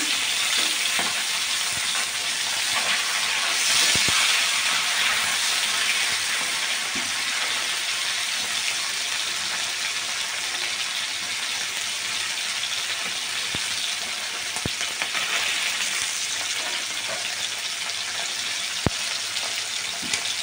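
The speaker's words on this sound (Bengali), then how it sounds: "এবার মাছগুলো ভাজা হবে, একেবারে লাল লাল করে ভেজে নিতে হবে, যেটাকে আর কি কড়া ভাজা বলে।" Tular dandi river fish fry hard in a pan of hot oil, giving a dense, unbroken sizzle and crackle that holds at an even loudness throughout, with occasional faint utensil clicks and no voices.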